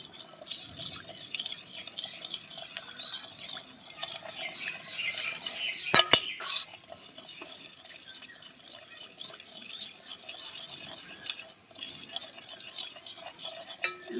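Turmeric paste being mixed in a bowl: rhythmic close scraping and clinking of a spoon against the bowl, with a sharp metallic knock midway.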